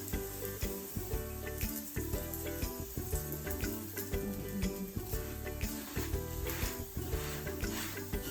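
A radish paratha fries in oil on a flat pan, crackling with a continuous sizzle that pulses in a fairly regular rhythm, moderately faint and with no talking.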